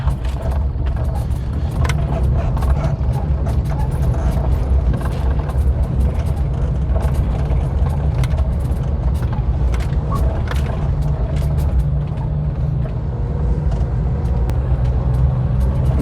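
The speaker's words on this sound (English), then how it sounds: "it's very fun to drive a car in this village" A car drives through a village on the Cinangka expedition, its engine rumbling steadily and loud up close, with continuous road and cabin noise and rattles throughout.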